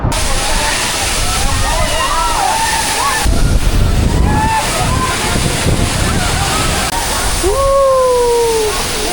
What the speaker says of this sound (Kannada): ಎಷ್ಟು ಮೇಲಿಂದ ನೀರು ಬೀಳತ್ತಾವ